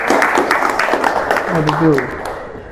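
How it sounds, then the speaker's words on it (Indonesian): Pupils in a seventh-grade classroom clap for a classmate named Rahma, a short burst of group applause that fades toward the end, with a voice speaking over it partway through. "Oke, beri tepuk tangan untuk Rahma."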